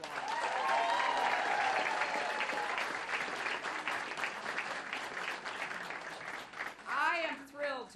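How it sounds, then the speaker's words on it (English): Sustained crowd applause at a presidential candidate's campaign launch party in Concord, New Hampshire: dense, loud clapping that fills most of the stretch, then thins out as a speaker's voice takes over near the end. "we should give the LaRocques another round of applause"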